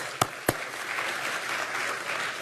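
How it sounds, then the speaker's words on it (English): Event audience at a global health fellows anniversary applauding an honoree, a soft continuous patter of clapping from a crowd, opened by two sharper close claps near the start. "I just want to give a round of applause for Yolanda."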